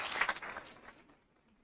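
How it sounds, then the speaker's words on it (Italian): Brief applause from a school audience for students' work, fairly faint and distant, a short burst of clapping that quickly fades to near silence. "a cui vorrei che voi faceste un applauso"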